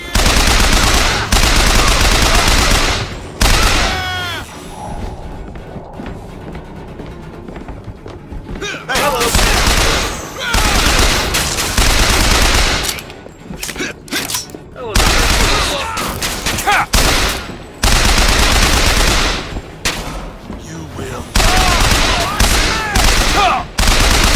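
Gunfire from BioShock Infinite, with bursts of rapid automatic shots and booming thumps that come in loud clusters separated by short lulls, and a voice speaking now and then between them.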